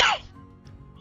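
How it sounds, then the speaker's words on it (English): A single harsh cough bursts out loud and close at the start, then fades into a quiet background with faint murmuring. "I have a chronic cough"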